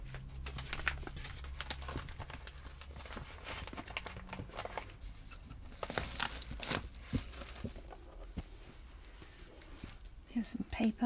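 Paper is handled, crumpled and torn at close range near a box. The crinkling and ripping comes in irregular bursts and sharp rustles, with soft talking in places.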